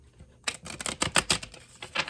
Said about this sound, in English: I'm going to give them a few more good shuffles simply because they're a new deck